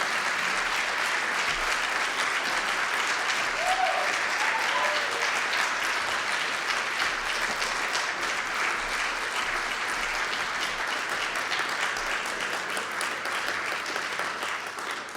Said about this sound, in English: let's give a really good round of applause all the way up to the lectern for this dear man, Alan